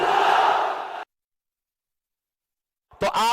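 A large crowd at a political rally roars back a slogan in unison after a Naara-e-Takbeer call, a loud, sustained chant lasting about a second before silence, followed by a short burst of speech.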